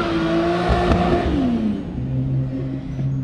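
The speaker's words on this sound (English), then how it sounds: "So John just took off in his Porsche" A Porsche driving off, its engine revving up with rising and falling tones as it shifts through gears, loud and close, then settling into a steadier drone as it pulls away.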